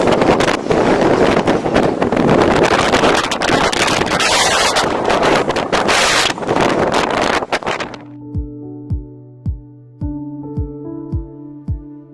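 Strong gusting wind buffets the microphone with loud, roaring rumble near a Patagonian glacier, then cuts off sharply, leaving quiet with a few faint tonal taps.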